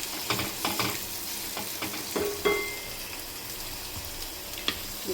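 Sliced onions and green chillies sizzle in hot oil in a pan for a raw mango and prawn curry, with a spoon scraping and stirring in a few distinct strokes over the steady frying hiss.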